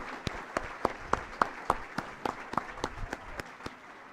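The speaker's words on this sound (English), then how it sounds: "Let's give them another round of applause for their amazing contributions to the college." A college audience claps for the year's employee award winners. The claps are rhythmic and evenly spaced, sounding like a small group clapping in unison, fairly close and distinct.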